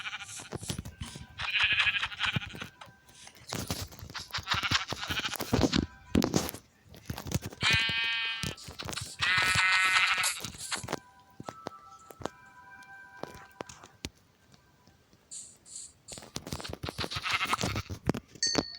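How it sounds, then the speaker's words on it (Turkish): Sheep in the Minecraft video game bleat repeatedly amid clicking footsteps and game sound effects, with several clear bleats spread across the stretch. "Bulamamıştım dediğim an karşıma çıkan o koyun."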